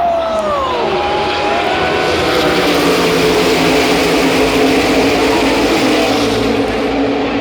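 NASCAR stock cars roar off at the start of a 500-mile race, a dense, loud, continuous wall of engine noise with rising and sweeping pitches as the field accelerates away.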